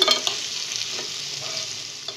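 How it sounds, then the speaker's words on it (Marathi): Chopped raw mango is stirred into a hot tempering of oil with asafoetida and turmeric, giving a close, continuous sizzle with a few soft spoon scrapes and no voices. "आपण छानपैकी या फोडणीमध्ये ना ही कैरी छान आता मिक्स करून घेऊया।"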